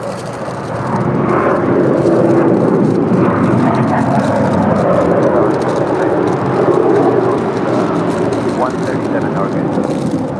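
A jet airliner rolls down runway 25 right at LAX, a loud, steady roar of engine noise filling the whole stretch after a brief quieter start, with radio talk faintly mixed in.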